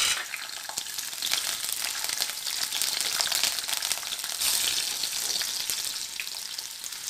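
Capsicum and onion fry in oil in a pan with a loud, dense, continuous sizzle that holds steady throughout, without any talking.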